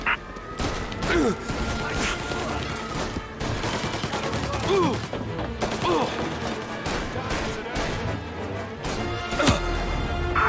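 Gunfire and an explosion in the video game Mafia: Definitive Edition, with dense bursts of rapid shots, crashing impacts and a booming blast layered over game music throughout.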